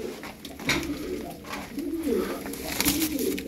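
Soft, low cooing from game pigeons, continuous rolling coos close by over a faint background murmur.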